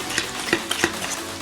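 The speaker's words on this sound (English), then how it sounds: "Now we're just going to mix it in like this," Vanilla and sugar being stirred into banana bread batter, a few soft rhythmic scraping strokes against a bowl, close and fairly loud with no one speaking.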